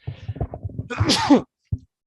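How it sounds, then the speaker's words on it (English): A single sharp sneeze bursts out after a short run of quick inhaling catches, followed by a brief final sniff. "Pardon me on that sneeze, folks."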